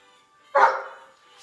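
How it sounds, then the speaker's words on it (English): A single sharp bark from a pet dog rings out once at close range, then fades into a quiet room with no other activity. "that's my dog."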